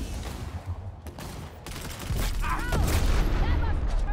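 Rapid gunfire in Cyberpunk 2077 bursts in close volleys against a turret, followed by heavier sustained shooting and whooshing effects, with a voice speaking over part of it.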